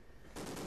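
Enemy gunfire in the video game Ghost Recon, a short, faint burst of rapid automatic shots that starts abruptly partway through and rattles on steadily at a distance.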